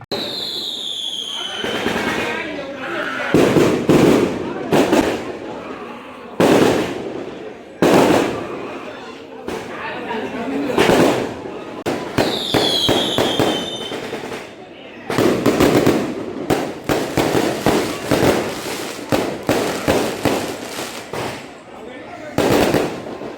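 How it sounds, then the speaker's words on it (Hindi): Firecrackers burst in rapid crackling volleys at an Indian wedding, loud sharp pops in repeated clusters with short pauses between, and a crowd murmurs underneath. "उसके बाद हुए थे फायर क्रैकर्स।"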